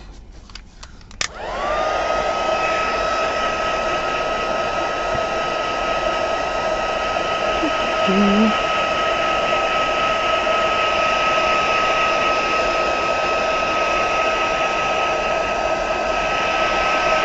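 A heat gun blasts air to dry a craft project in an industrial-style make, kicking on with a click and a sudden rise to a steady, loud, continuous whoosh with a faint whine that holds unchanged to the end.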